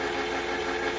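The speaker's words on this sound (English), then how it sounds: "we're gonna bore it out with my homemade boring tool." A lathe bores out a welded and ground axle extension for a Power Wheels ride-on toy with a homemade boring tool, giving a steady, close machine hum and whine that holds evenly through the whole second with no talking.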